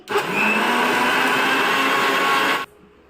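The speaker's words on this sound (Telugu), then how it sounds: "ఇప్పుడు దీనిపైన మూత పెట్టుకొని హై స్పీడ్లో త్రీ మినిట్స్ బ్లెండ్ చేసుకోవాలండి" A blender runs at high speed on dragon fruit juice, a loud constant whirring roar lasting about two and a half seconds before stopping abruptly, leaving a faint hum.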